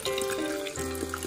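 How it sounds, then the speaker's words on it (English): A small waterfall at Krangshuri falls in Meghalaya, a steady close rush and trickle of water with a faint tonal hum mixed in. "and that's another waterfall. Little one."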